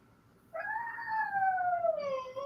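A dog caged indoors lets out a long wavering howl that rises at the start, holds steadily, then bends downward, close and clear over a quiet background.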